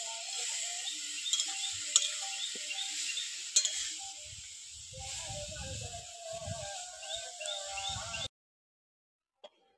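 Bathua greens stirred and fried in a pan, a steady sizzle with repeated scraping strokes of a spatula against the pan, close and moderately loud, ending abruptly in silence.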